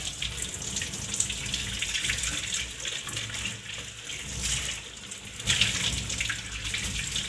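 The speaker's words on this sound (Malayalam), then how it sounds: "ഒന്നുകൂടെ ഇതിനൊന്ന് കഴുകി കാണിക്കാം ഞാൻ വെള്ളം ഒഴിച്ച്" Water pouring and splashing steadily as something is rinsed, a close, continuous gush with a brief louder surge near the end.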